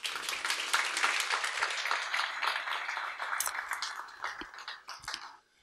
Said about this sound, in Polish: Oklaski poproszę.